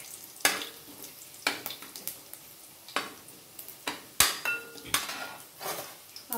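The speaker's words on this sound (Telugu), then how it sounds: "అలాగే కొంచెం ఆవాలు వేసుకొని చిట్టపెట్టలు ఆడాక" Mustard seeds and cumin spluttering in hot oil as the tempering for a dish, sharp sporadic pops and crackles over a low sizzle, close and clear, with no voices.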